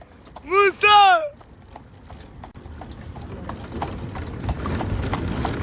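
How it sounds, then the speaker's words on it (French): Horse hooves clop on the ground in a video game by a lake, a brief burst of quick hoofbeats near the start. A steady rattling, mechanical-sounding background and faint voices follow. "Même Mousse, il a pris un cheval là-bas, là"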